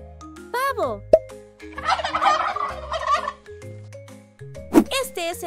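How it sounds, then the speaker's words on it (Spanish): A farm turkey gobbles in several loud, rapid rattling bursts, close by, with a final sharp gobble near the end. "Este es el sonido que hace el pavo."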